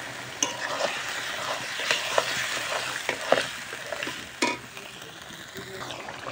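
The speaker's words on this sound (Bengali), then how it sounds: "এবার ভালো করে কিন্তু মিলিয়ে নিতে হবে।" Yogurt is stirred into chicken meat cooking for biryani, a close, continuous sizzle punctuated by repeated scraping strokes and a few sharper knocks before it eases toward the end.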